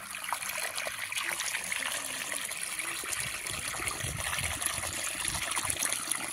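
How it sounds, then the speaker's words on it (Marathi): Irrigation water running through a farm field planted with chillies and cluster beans, a faint steady trickle and gurgle heard from close by, with soft outdoor background noise and no voices. "कसं पाणी चालू चालू आहे"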